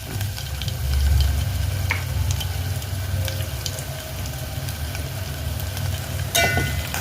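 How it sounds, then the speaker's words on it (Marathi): Cumin seeds sizzle in hot oil over a lowered flame, a dense, close hiss with tiny crackles and a low rumble beneath, ending with a sharp clink of a utensil. "जिरं चांगलं तळतळलं ना"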